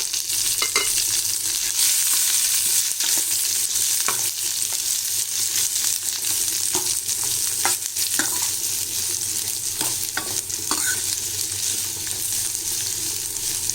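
A large chopped onion sautéing in oil with curry leaves in a pan, giving a loud, continuous close-up sizzle punctuated by light clicks and scrapes of a stirring spoon, with no talk.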